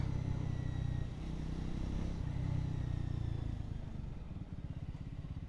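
A Triumph Scrambler 400X motorcycle engine idles and revs steadily at close range, a low throbbing rumble that rises and eases without any talking.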